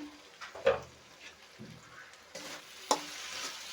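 Small mola fish fry in a pan with a soft, steady sizzle under occasional clinks and utensil scrapes, one sharp knock near the end; fairly quiet and close.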